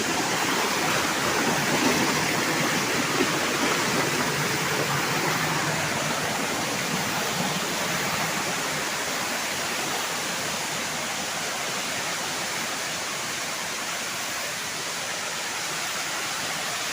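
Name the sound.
flowing water, waterfall or stream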